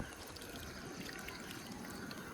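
A glass of water is poured onto a money plant growing in a pot by a kitchen grille, a faint, steady trickle and splash that runs unbroken throughout.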